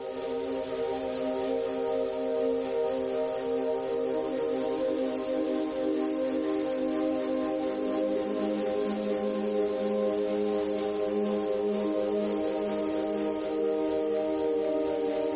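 A lo-fi house synth pad built in FL Studio holds ninth chords with a flanger sweep, sustained and smooth, shifting to a new chord midway, playing alone.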